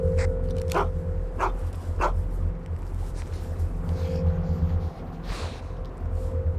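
A team of sled dogs barks repeatedly outdoors over a low rumbling background, sharp yaps arriving in an irregular series at mid distance, with no talk over them.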